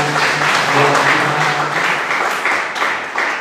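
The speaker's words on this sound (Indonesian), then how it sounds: "Kita berikan tepuk tangan" A church congregation claps together, dense continuous applause filling the room from start to finish, loud and close, then thinning slightly near the end.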